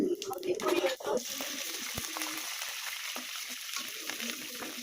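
Chillies hit hot oil with spices for tomato rice, a loud burst of bubbling and stirring, then a steady, close, hissing sizzle that carries on evenly to the end.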